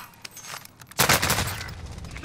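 Rapid automatic gunfire in the video game Call of Duty: Modern Warfare, a few scattered shots followed by a loud sustained burst of fire that tails off into continuing shots.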